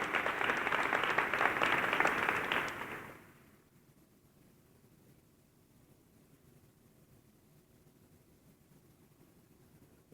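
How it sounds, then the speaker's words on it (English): A school class day audience gives a burst of warm applause for about three seconds, then it stops abruptly, leaving a quiet, faintly hissing room. "I'd like for them to just stand and let us give them some applause."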